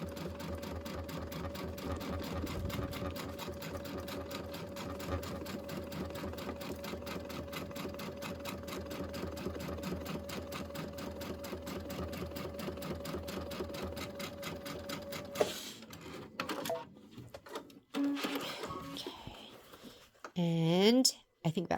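A sewing machine runs steadily for about fifteen seconds, stitching pieces of a Christmas quilt block together with a close, even mechanical whir, then falls quiet as a voice speaks briefly.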